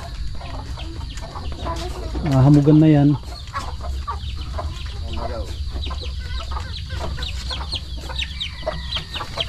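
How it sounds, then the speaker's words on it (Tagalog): Chickens cluck around a rural yard, with one loud, drawn-out harmonic squawk partway through and soft scattered clucks under people talking in Filipino. "Daming manok oh."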